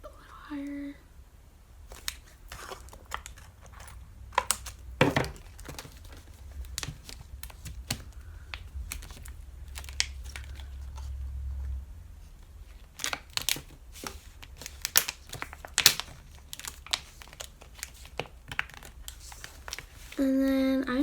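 An aluminium soda can being cut, with sharp irregular snips and crinkly metallic clicks spread across the stretch, close and fairly quiet, and a voice speaking briefly near the start and end.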